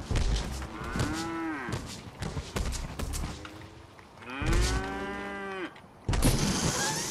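A cow in the video game Fortnite lets out repeated loud, drawn-out moos, separated by short thumps and bursts of game noise.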